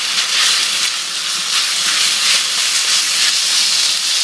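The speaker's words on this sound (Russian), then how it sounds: "И обжариваю. Этот фаршик вкусный." Minced meat mixed with onion sizzles in a frying pan: a dense, continuous hiss and crackle at close range, steady and loud throughout, with no voices.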